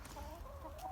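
Backyard chickens cluck softly at close range, a faint, continuous low murmur of fowl calls with no talk.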